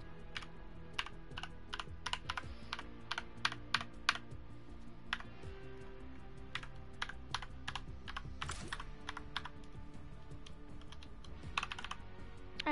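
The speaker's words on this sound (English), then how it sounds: "Just fixing my keyboard." Computer keyboard keys being pressed in quick irregular taps and short bursts, close and fairly quiet over a low background hum, with no talking.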